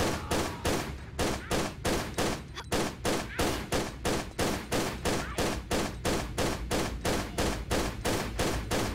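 Rapid, evenly spaced pistol shots ring out in a steady, loud stream of about twenty-five sharp cracks, with no pause apart from a brief hitch, during a Tomb Raider level-editor game set in a working mine.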